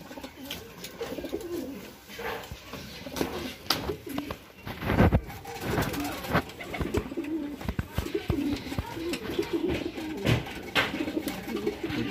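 A young racing pigeon entered in a 100 km race coos in repeated soft throaty rolls, close by, with rustling, brief knocks and faint background voices between calls.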